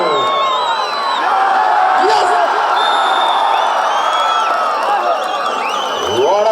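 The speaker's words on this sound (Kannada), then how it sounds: "ಪ್ರೇಕ್ಷಕರೇ ಬರಲಿ ಒಂದು ಜೋರ ಚಪ್ಪಾಳೆ." Loud crowd at a Karnataka State Senior Kabaddi Championship final between Mandya and Dakshina Kannada, a steady roar of cheering, whoops and scattered clapping filling the whole stretch, with voices mixed through.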